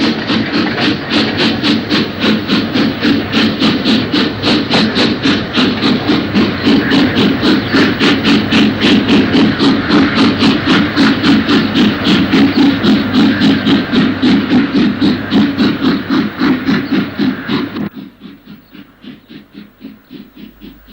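A steam locomotive shunting at Deep Dufferin Yard chuffs steadily and loudly for a long stretch, rapid rhythmic exhaust beats over a heavy rumble, then drops abruptly to quieter, slower puffs.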